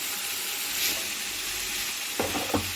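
Cabbage frying with a spoon of ginger garlic paste in a curry pan, giving a steady close hiss of sizzling with a couple of brief stirring scrapes near the end, no talking.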